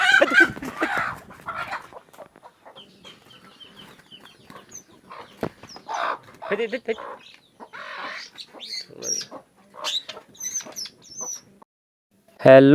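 Chickens cluck and squawk close by in bursts while attacking a heron, with quieter stretches of faint background noise between and a louder outburst at the end.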